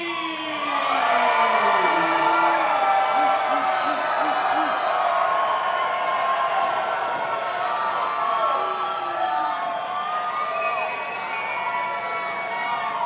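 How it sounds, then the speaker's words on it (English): Crowd at a kickboxing event cheering and shouting, a sustained close roar with rising whoops, heard beneath a commentator's voice. "And the crowd showing some life for he."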